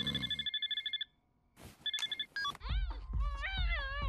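Cartoon telephone ringing in short repeated electronic trills, a brief silence, another ring, then animated characters begin talking.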